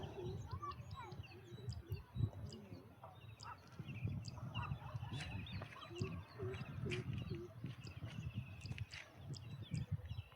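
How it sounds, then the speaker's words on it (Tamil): Birds chirp faintly in a lush green garden, scattered short calls and tweets spread through a low, busy outdoor background, with a voice talking quietly underneath. "எவ்வளோ பறவைகள் பறந்து போயிட்டு இருப்பாங்க."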